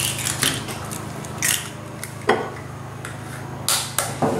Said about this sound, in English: I'm going to crack in my 2 eggs into this cup